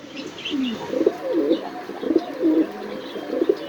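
Pigeons coo repeatedly in soft, rolling phrases at a pigeon farm, with a few faint chirps above, close and steady with no talk.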